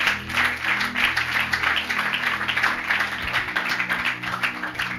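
A church congregation claps together in praise during a Bible teaching, a steady dense patter of applause heard continuously at moderate volume with a faint low hum beneath and no speech.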